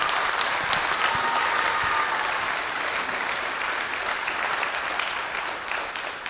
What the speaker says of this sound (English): How about another big round of applause for these fantastic kids?